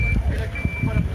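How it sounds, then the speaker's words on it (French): Vehicle backing up at a street protest, its high reversing alarm beeping in a steady, fairly loud tone under rumbling engine noise and crowd voices. "il y a le véhicule qui recule"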